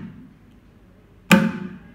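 One mridangam stroke played with the middle finger added to the index, a single thick, dull hit with a heavier low end and a short, damped decay, alone and fairly loud.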